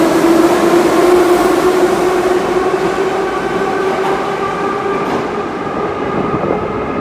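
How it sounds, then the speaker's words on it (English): A Kharkiv subway train pulls into the Historical Museum metro station with a loud, steady rumble and a sustained whining tone that fills the whole stretch, close by and unbroken. "The train is arriving."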